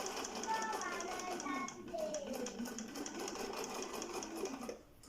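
A Husqvarna Viking 3020 sewing machine stitching fabric, its rapid needle chatter running steadily and close, with faint voices and a brief pause before it slows near the end.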